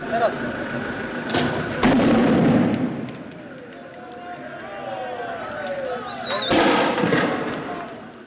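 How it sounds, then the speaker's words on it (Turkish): A sharp blast of a bomb thrown at police bursts out amid a noisy street protest crowd in Turkey, with another loud bang later; shouting and chatter continue throughout. "polise atılan bir bomba işte böyle patladı"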